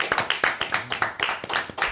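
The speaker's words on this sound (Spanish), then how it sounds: "¡Un aplauso!" Studio audience clapping to welcome a guest writer onto a show, a small group of distinct, rhythmic claps, fairly close and moderately loud.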